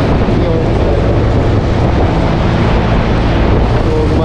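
An air-conditioner condensing fan, recently replaced on a dusty outdoor unit, runs with a loud, steady close-up whoosh and low rumble that continues unchanged throughout.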